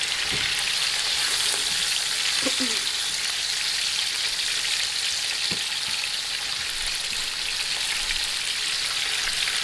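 Oxtail browning in a pot on the stove sizzles steadily and loudly, a dense continuous frying hiss with occasional faint clinks and stirring sounds.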